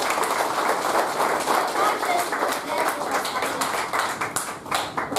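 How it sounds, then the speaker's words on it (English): Audience clapping at a Toastmasters club meeting, a continuous, even wash of many hands with small swells throughout, fairly close and unbroken by talk. "I wish you all give them a big round of applause."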